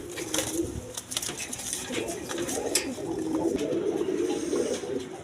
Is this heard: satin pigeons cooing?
yes